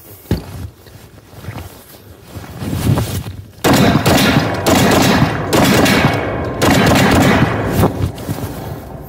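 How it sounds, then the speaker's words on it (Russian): Benelli M4 semi-automatic shotgun firing a rapid string of loud booming shots outdoors, blasts following one another closely, with mechanical clatter between them. "Ну, постреляем, попробуем,"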